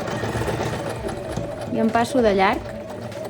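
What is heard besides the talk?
sewing machine stitching a dart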